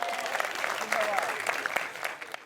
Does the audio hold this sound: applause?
yes